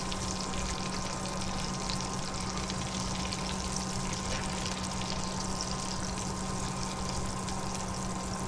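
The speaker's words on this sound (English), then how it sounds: "add the chicken, skin side down, and fry it for about 6 minutes." Chicken frying skin side down in butter in a hot pan, a steady crackling hiss with a faint constant hum underneath, no talking.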